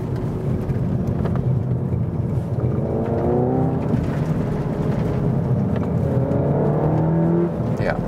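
A Seat Leon Cupra 300 AWD with DSG gearbox accelerates under full throttle, its engine note climbing in rising sweeps heard from inside the cabin beneath steady road rumble while someone talks over it.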